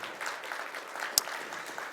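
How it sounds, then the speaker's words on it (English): An audience claps together at a heritage month ceremony, a brief continuous patter of many hands with one sharper clap standing out midway. "you can clap for it"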